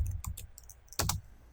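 Several quick keystrokes on a computer keyboard while code is entered, sharp clicks in two small bursts and then a louder close cluster, with no talk.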